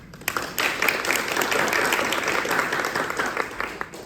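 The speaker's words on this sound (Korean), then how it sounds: "박수로 맞이해 주시기 바랍니다." An audience at a construction policy forum applauds as a speaker is welcomed. Steady, moderately loud clapping fills the hall for about four seconds.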